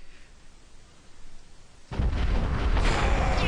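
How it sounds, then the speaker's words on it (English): Explosion in the video game Conker's Bad Fur Day: a near-silent stretch breaks into a sudden loud, deep boom that keeps rumbling heavily to the end, with no talking. "Look at the explosion animation."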